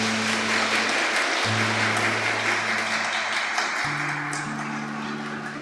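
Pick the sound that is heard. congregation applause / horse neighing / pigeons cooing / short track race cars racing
congregation applause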